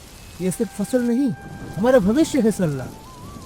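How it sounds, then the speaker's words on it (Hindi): Steady torrential rain pours down as a constant hiss beneath a narrator and voices speaking throughout, the downpour staying in the background. "पानी मूसलाधार बरस रहा था"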